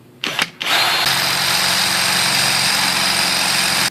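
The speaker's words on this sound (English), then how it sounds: "we're just applying a real light pressure, trying to let the drill bit do all the work" A power drill bores a small hole for a front sling mount on a Crosman Nitro Venom air rifle, starting with a few short bursts before settling into a steady, loud whine that runs close up and uninterrupted, with no talking.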